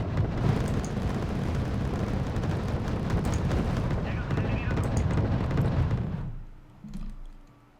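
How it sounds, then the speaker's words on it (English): Incoming artillery in the Wargame: Red Dragon campaign, heard as a dense, continuous barrage of rumbling blasts and crackling impacts that cuts off abruptly near the end, leaving a fainter thud or two. "Seems to be artillery coming in from some position over here."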